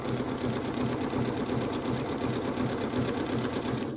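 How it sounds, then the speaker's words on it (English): A Janome sewing machine runs steadily with a circular attachment, a fast, even mechanical stitching patter that stays close and continuous throughout. "I'm going to go up to the center"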